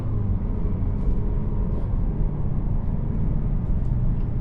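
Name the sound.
2024 Mazda 3 sedan driving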